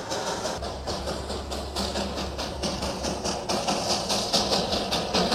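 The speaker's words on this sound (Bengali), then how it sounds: "দেখতে পাচ্ছেন এই জায়গার থেকে টয় ট্রেনটা কিন্তু আসছে" Darjeeling toy train approaching on its mountain line, a steady low engine rumble with rattling, clattering carriage noise that swells slightly toward the end, heard without talk.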